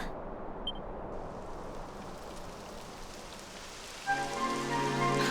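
Steady rain in the video game Dragon Quest XI patters across the whole stretch, a soft constant hiss, with a brighter tonal layer joining near the end.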